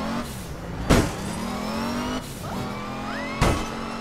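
Car driving in APB Reloaded, a steady engine drone with sharp impact bangs and a rising tire squeal as it skids, loud and close throughout.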